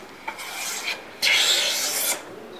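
An HNT Gordon A55 wooden smoothing and trying plane takes fine finishing shavings off a board in two close, hissing strokes, the second longer and louder.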